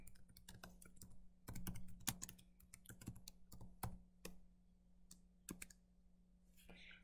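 Rapid, irregular clicks of fingers typing on a computer keyboard, close and fairly quiet, with short pauses between bursts of keystrokes.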